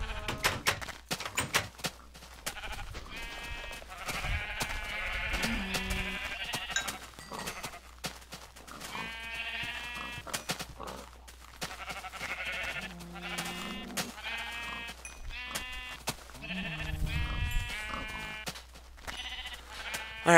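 Minecraft sheep bleat repeatedly in a game world, several separate wavering baas spread across the stretch, fairly close and distinct against a quiet background with no talking.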